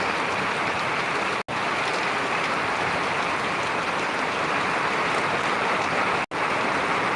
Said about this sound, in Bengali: প্রচুর বৃষ্টি হচ্ছে সঙ্গে বাতাস